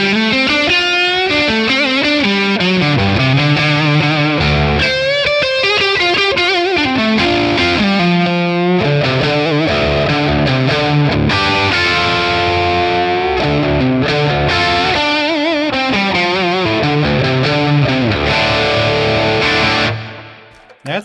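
Crunchy, distorted electric guitar played through a Friedman PLEX amp capture with reverb added, a continuous strummed and picked passage with chords and ringing notes, loud and alone, fading out at the end.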